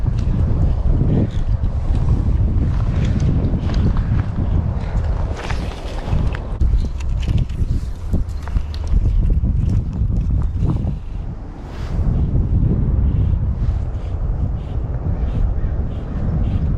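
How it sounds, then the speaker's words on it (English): Strong wind buffets the microphone at a waterside fishing spot, a loud continuous roaring rumble with gusty surges and brief lulls lasting the whole stretch, with no talk over it. "the wind picks up"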